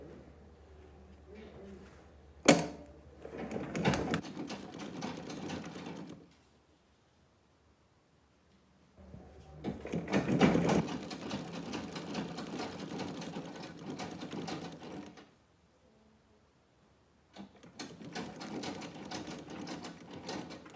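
A sewing machine stitches a shirt collar, running in three steady bursts separated by pauses, with a brief sharp click early on; fairly close and moderate in level.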